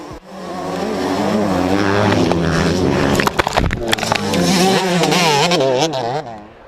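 Motocross motorcycles racing at the KMXA Labor Day races, engines revving loudly and continuously with rising and falling pitch, several bikes overlapping close by, a brief sharp burst midway.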